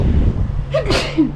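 A single loud, close sneeze from an adult indoors, a quick sharp burst over a faint background hum.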